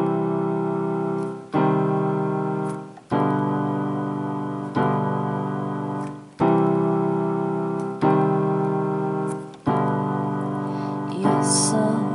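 Solo piano plays a tune from Adventure Time, repeated chords struck every second or so and left to ring and decay, clear and close with no voices.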